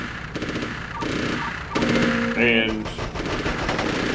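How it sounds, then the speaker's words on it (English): A twin machine gun firing from a tri-bike in the WarGames: Defcon 1 video game, with short rapid bursts of rattling game gunfire, synthesized effects and a chirping tone, and a voice briefly speaking. "So this thing has a twin machine gun"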